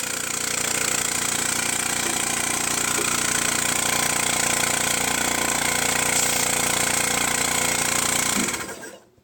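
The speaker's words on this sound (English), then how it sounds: "You can use it as a suction motor." A small suction motor designed for quiet indoor use runs with a steady, even whir for about eight and a half seconds, then cuts off abruptly at the end.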